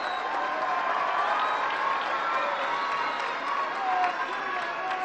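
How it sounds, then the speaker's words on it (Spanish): A large crowd at a political rally in San Luis applauds and cheers in a steady, dense roar that holds evenly throughout, with scattered shouts mixed in. "le enviamos un aplauso y un gran saludo"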